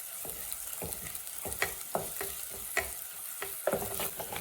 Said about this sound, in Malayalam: 2 പച്ചമുളക് കീറിയതും ഒരു തൊണ്ടമുളകും കൂടി ഇതിലേക്ക് ചേർത്ത് ഒന്ന് ചെറിയൊരു ലൈറ്റ് ബ്രൗൺ ആവുന്നത് വരെ ഒന്ന് വഴറ്റിയെടുക്കാം